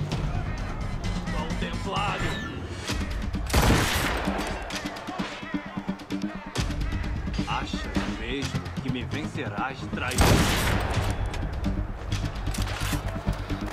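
Gunfire in the video game Assassin's Creed Rogue: two loud, sharp shots several seconds apart cut through busy in-game noise and a speaking voice.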